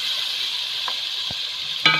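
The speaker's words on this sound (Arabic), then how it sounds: "هسيب بقى البصل يتشوح شويه، بعد كده احط عليه الصلصه بتاعته" Onion sautés in a hot pan, a steady bright sizzle running throughout, with a couple of soft knocks and a short clatter of stirring near the end.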